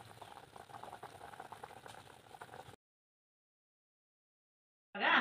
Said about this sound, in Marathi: खूप छान असे उकळे आलेले आहेत बघा.